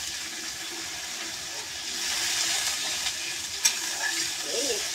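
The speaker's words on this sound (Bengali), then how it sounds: "এবার জল দেবো।" Water pours into a pan of katla fish kalia (Bengali-style fish curry) as a steady hissing rush, with the seething continuing at an even level and a small clink partway through.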